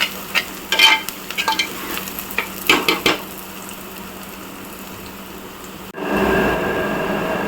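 Onions sautéing toward golden in a pan for sankara fish curry, with several scraping stirs at first, then a steady low hiss, and a louder burst of sizzling near the end.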